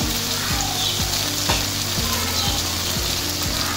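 Taro pieces sizzle and fry in a pan with ground chilli, coriander, sambar and turmeric powders, a spoon scraping and stirring in a steady rhythm about twice a second over continuous loud crackle.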